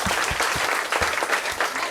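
An audience at a primary school musical applauds as a pair of chefs is introduced on stage, giving dense, lively clapping that fills the room, with a few stronger claps standing out near the front.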